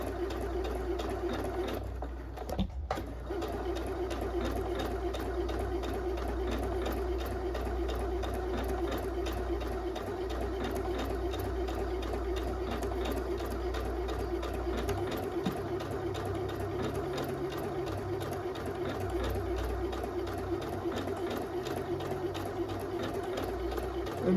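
A sewing machine runs steadily while stitching a fabric hem, a continuous close mechanical whir for the whole stretch with a brief stop near the start.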